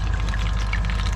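Bicarbonate of soda poured into aquarium water makes a steady, close pouring and trickling wash that runs unbroken for about a second with no voices.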